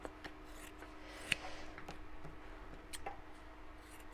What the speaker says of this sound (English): Cut around the edge.